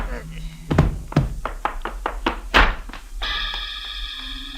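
A radio-drama sound effect of a gun butt striking a head: a series of hollow, knocking thuds in quick irregular succession, loud and close, followed by a sustained musical sting.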